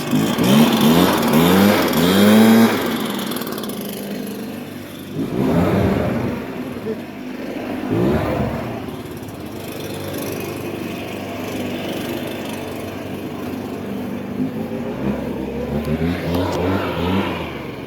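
A Stihl BR430 backpack blower engine revs up and down several times, loud and close, its pitch rising and falling with each rev over a steady idle, with voices mixed in.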